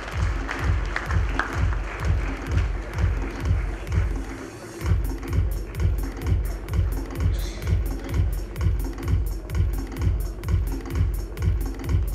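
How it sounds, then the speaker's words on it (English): An audience at a NASSCOM GCC awards ceremony claps in steady rhythmic unison, a dense, evenly pulsing applause sustained throughout, with a brief dip partway before resuming. "A big round of applause for these guys"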